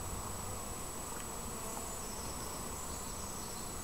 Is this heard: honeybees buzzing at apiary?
yes